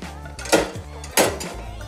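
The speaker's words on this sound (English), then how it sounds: "I would then begin the dishes." Dishes being washed at home, with two distinct clattering clinks of plates and cutlery against each other over running-water hiss, close and fairly loud.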